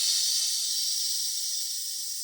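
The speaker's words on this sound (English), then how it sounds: "now we need to fill these up with air" A steady, loud hiss of air rushes from a bike pump or air compressor into a plastic bottle being filled to about 60 psi, holding continuously and fading only slightly at the end.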